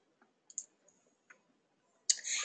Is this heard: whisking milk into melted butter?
no